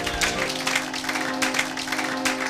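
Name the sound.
church congregation applauding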